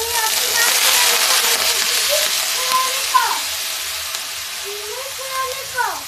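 Grated, washed bottle gourd fries in a pan for halwa with a steady close hiss and sizzle, with occasional stirring scrapes and a voice talking over it.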